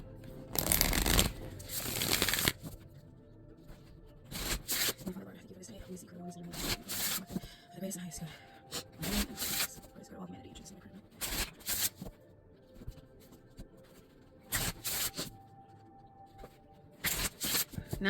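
Tarot cards are shuffled again and again in loud, rapid riffling bursts, separated by softer rustling and handling of the deck, with occasional talk.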